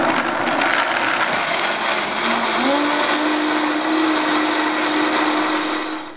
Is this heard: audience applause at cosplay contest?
no